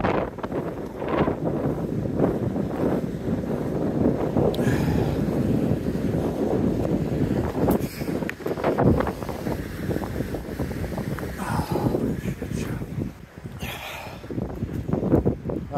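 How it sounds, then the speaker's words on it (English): Strong wind buffets a boat out on Okanagan Lake in winter, producing a loud, constant roaring rumble that pummels the microphone, with occasional gusts, creaks and splashy knocks over nearly sixteen seconds. "The wind picked up and it's pretty nasty out there"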